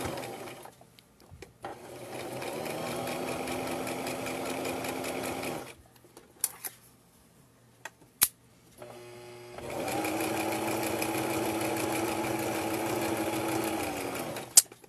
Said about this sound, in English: I'm going to sew over it, and then I'm going to reinforce it by going back over it again.